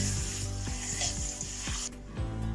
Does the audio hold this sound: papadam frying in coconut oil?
yes